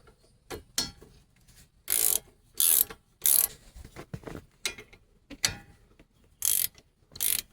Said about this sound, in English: You're going to put in your 12mm socket here and just tighten those up.